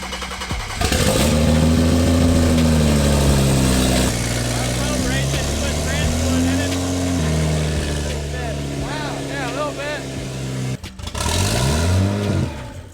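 A BMW 335i engine with no exhaust beyond the downpipe runs and revs, harsh and throaty, rising and falling in pitch and briefly cutting out before roaring again.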